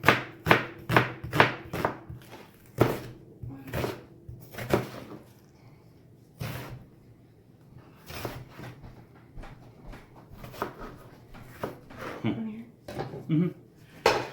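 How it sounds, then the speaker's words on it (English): An onion sliced with a knife in a fan pattern on a board for gyudon: a rapid run of crisp, close knife chops, then a pause and more scattered cuts. "Now there are tons of ways to cut an onion, but for gyodon you want to be cutting it in a fan pattern."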